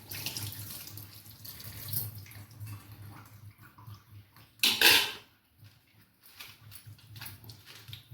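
Soybean chunks are rinsed under a running kitchen tap, a fluctuating close splash with a sharp, louder gush midway before settling back to a softer trickle.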